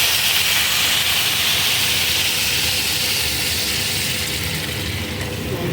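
Water hitting a hot pan while cooking a Bengali muri ghonto, giving a loud, continuous broadband hiss of steam that fades slightly toward the end.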